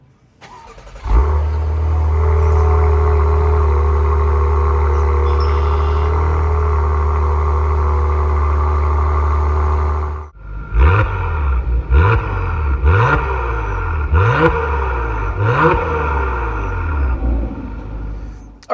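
A 2024 Acura TLX Type S idles with a steady, loud engine drone for about ten seconds. It then pulls away onto the road with repeated rising surges of revving as it shifts through gears, close to the microphone.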